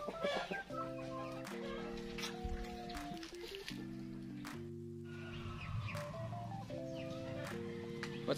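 Chickens of several heritage breeds cluck and call close by, with harmonic tones running steadily throughout and a busy farmyard bed of sound underneath.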